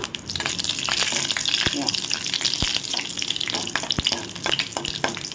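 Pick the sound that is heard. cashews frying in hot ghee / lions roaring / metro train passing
cashews frying in hot ghee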